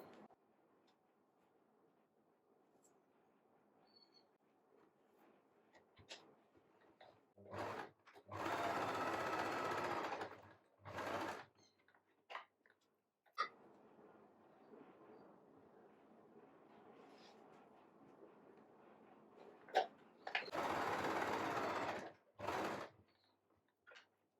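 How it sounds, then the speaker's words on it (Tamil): A sewing machine stitching the main darts of a back-open blouse runs in two long, loud whirring bursts and a few short ones, separated by quiet stretches of fabric handling. "அடுத்தது நம்ம வந்து மெயின் டாட் தைச்சிக்கலாம்"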